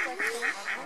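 Ducks or geese at a bird park honk in four evenly spaced, fairly loud calls, one after another with no talking.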